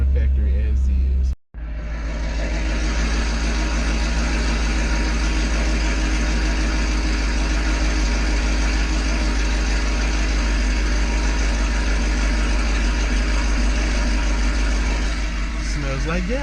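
A 2017 Chevrolet Camaro ZL1 engine cuts out briefly, then settles into a loud, steady idle up close as it warms its oil, rumbling on without change.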